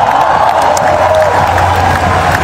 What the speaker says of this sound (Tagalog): Sigawan na yung mga tao.